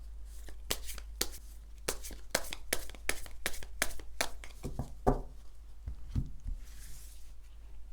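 Cards shuffled and drawn for a weekly fortune reading, a rapid run of sharp close riffling taps followed by a few softer slides and placements, with no talking.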